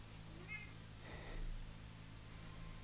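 A house cat meows faintly in a quiet room, with a soft short call followed by a longer one, set against a low steady hum.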